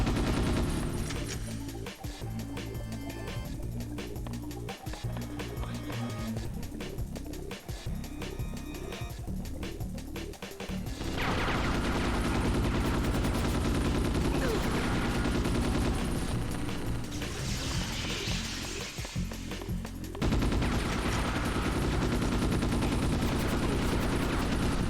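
Sustained bursts of gunfire in the video game Ghost in the Shell: Stand Alone Complex, dense rapid shots in the first half giving way to a loud continuous roar of firing and action noise.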